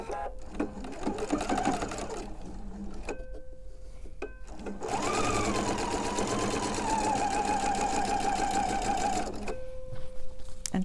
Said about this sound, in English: I'm going to stitch right on that marked line